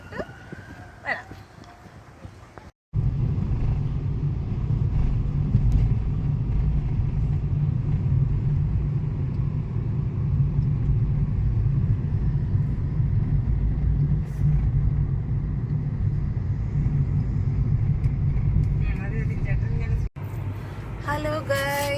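An automatic car drives along a road in Punjab near Mohali and Chandigarh, giving a steady, loud engine and tyre rumble heard from inside for most of the clip, with faint voices at times.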